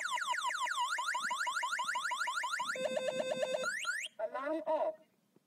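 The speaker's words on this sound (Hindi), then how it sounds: "तो इस तरह से इसका एंटी थीफ्ट अलार्म सिस्टम काम करता है।" A loud electronic motorcycle anti-theft alarm cycles through rapid warbling siren tones and beeping patterns, then cuts off abruptly, leaving brief fading chirps.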